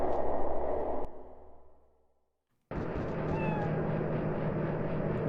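A ghost cat in the video game Echo Night: Beyond meows as a drawn, wavering cry over a humming ambient bed, then the sound fades to silence before a brighter, steady game ambience returns.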